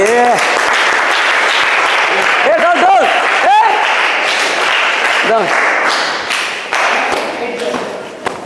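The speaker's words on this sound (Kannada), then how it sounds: "ಚಪ್ಪಾಳೆ ನೋಡ್ರಿ." A group at a karate class claps continuously in dense, sustained applause close by, while voices call out and talk over it before the clapping thins toward the end.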